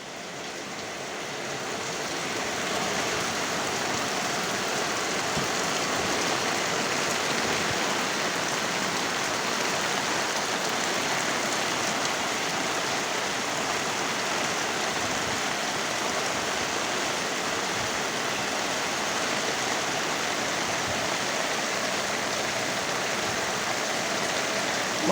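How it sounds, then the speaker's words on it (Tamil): Heavy evening rain falls in Thippirajapuram in a constant, dense roar, steady and close throughout, with no voices. "மழையை பார்த்து ரசித்துக் கொண்டிருக்கின்றார்கள்"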